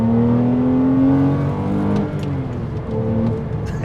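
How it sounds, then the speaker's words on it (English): Porsche engine revving as the car pulls away through the rev range, a throaty, steadily rising drone with gliding harmonics that falls off and climbs again, loud and close with no talk. "And that's Porsche. You can hear that throatiness."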